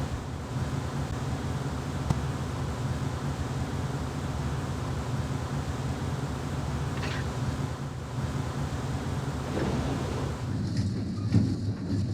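A train in the video game Splinter Cell Pandora Tomorrow rolls steadily along its rails as a continuous, even rumble with a wind-like hiss that never lets up.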